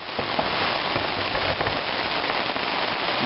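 Dense, steady patter of water from a garden sprinkler spraying onto a tarp, close by and continuous, like heavy rain drumming on a surface.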